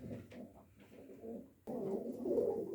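Domestic pigeons, including young birds with white crested feathers, coo softly close by in a loft, a few low throaty calls followed by a fuller burst of overlapping cooing.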